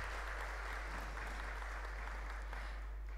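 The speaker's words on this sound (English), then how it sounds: "Can we give Anna A round of applause." An audience at a conference event on digital skills and innovation gives steady applause, a continuous wash of clapping heard faintly and somewhat distant over a low hum.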